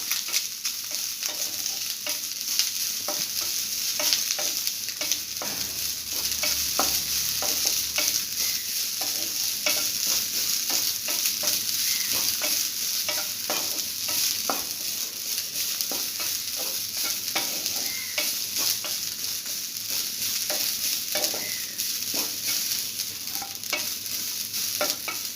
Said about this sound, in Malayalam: അതിലേക്ക് നമുക്ക് നമ്മുടെ കളറുള്ള തേങ്ങ ഇതിലിട്ടൊന്ന് ചൂടാക്കിയെടുക്കാം, അതിൻ്റെ ഒരു പച്ചമണം പോകാൻ.